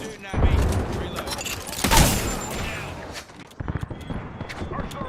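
Bursts of automatic weapon fire in the battle royale shooter Apex Legends, a sharp burst near the start and a louder volley around two seconds, layered under game voice lines and effects.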